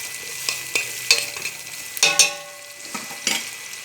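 Lentils are roasted in a pot with salt and white pepper while a spoon stirs, making close scraping strokes and sharp metallic taps over a low, steady sizzle, without talk.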